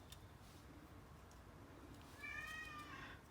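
A pet cat gives one short meow near the end against a quiet, faint room background, fairly distant and with no talking.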